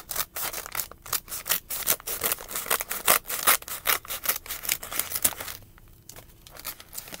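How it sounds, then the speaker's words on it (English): Plastic mailer bag from an Amazon package crinkles and rustles loudly as it is cut open with dollar-store scissors, a continuous dense scratchy crackle with sharp bursts that eases near the end. "And in advance, I apologize about the bag noise."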